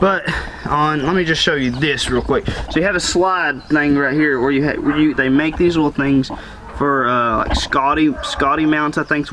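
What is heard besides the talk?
No everyday noises stand out.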